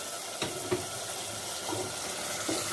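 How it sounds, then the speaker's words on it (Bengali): Water poured into a spiced mutton masala in a hot pan, giving a continuous hissing sizzle with a few soft knocks of a utensil, close and fairly quiet, with no talking. "যাতে মশলাটা পুড়ে না যায়, একটু জল দিয়ে দিলাম।"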